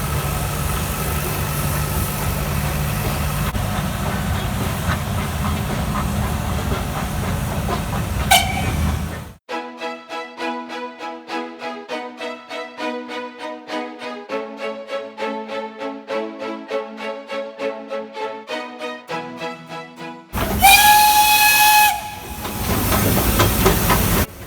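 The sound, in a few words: Nilgiri Mountain Railway Swiss-built steam locomotive hissing and whistling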